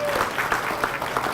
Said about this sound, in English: Round of applause for Concha.